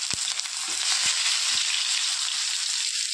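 Garlic fries in hot oil with cumin seeds, a constant crackling sizzle close by, broken by a few light clinks and stirring taps early on.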